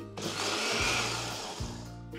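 A mixer grinder blends peanuts, coconut and water into a wet masala paste, running as a steady, loud whirring roar from start to finish.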